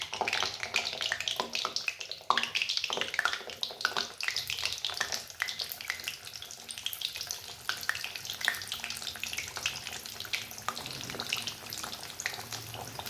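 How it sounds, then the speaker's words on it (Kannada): Chiroti pastries fry in hot oil at medium heat, giving a steady, close hiss with dense crackling and small pops that keep going without a break and without any voices. "ಇವಾಗ ಎಣ್ಣೆ ಕಾದಿದೆ. ಈಗ ಚಿರೋಟಿಗಳನ್ನ ಆಗಲೇ ಲಟ್ಟಿಸ್ಕೊಂಡು ಇಟ್ಕೊಂಡಿದ್ವಲ್ಲ, ಆ ಚಿರೋಟಿನ ಒಂದೊಂದಾಗಿ ಕರ್ಕೊಳ್ಳೋಣ."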